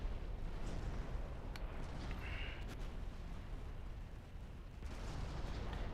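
Heavy naval cannon fire from cruisers pounding a battleship in Ultimate Admiral Dreadnoughts, a dense, continuous rumble of booming shots and blasts rolling on without pause.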